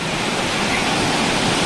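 Chirchiri Waterfall roars as a loud, continuous rush of falling water, dense and unbroken, with no voices.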